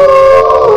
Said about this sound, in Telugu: ఒక నక్క వెళ్లి అక్కడ ఒక భయంకరమైన శబ్దాన్ని చేసింది.